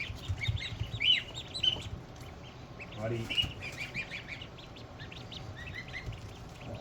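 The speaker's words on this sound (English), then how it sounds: "I love picking up ducks." Ducks on a small homestead give soft quacks and high peeping calls while being picked up and handled, close by and fairly quiet, with a person talking to them.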